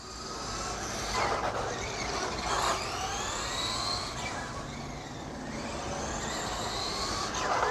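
A Traxxas Slash 2WD RC car at quarter power whines past with rising and falling electric motor pitch over a steady outdoor rumble, moderately loud and without talk.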